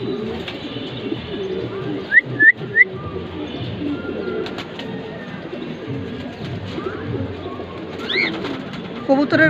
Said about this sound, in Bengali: রেড খাকি রানিং পেয়ার মাশাল্লাহ অসাধারণ quality it's a beautiful pigeon